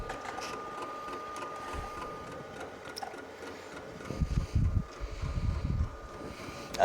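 A Silhouette Cameo 4 cutting machine runs with a faint steady whine and light ticking, joined midway by louder low mechanical rumbling as the carriage moves; no voices are heard.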